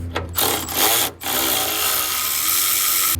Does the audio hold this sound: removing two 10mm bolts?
yes